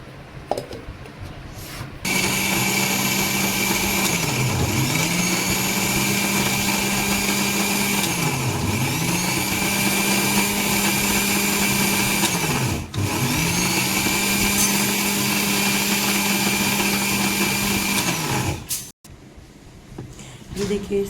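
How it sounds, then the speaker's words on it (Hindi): An electric mixer grinder grinds soaked grains in small batches, a loud whirring motor with rhythmic dips in pitch as the load churns, running steadily before stopping near the end, with some talk around it. "इस तरह से मैं मिक्सी से पीस ले रही थी"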